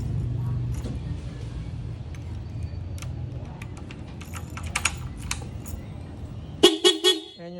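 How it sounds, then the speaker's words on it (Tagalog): A Raider 150 Fi motorcycle's dual horn, rewired straight to the battery, blasts a few loud, close, sharp honks near the end, following a stretch of light clicking and low background rumble. "Ayan yung loud horn."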